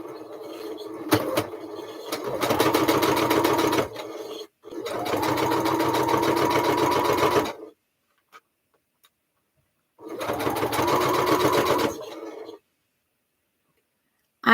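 A domestic sewing machine stitching quilt-as-you-go blocks runs in three steady bursts of rapid mechanical chatter, close and loud, with short pauses and a near-silent gap between runs.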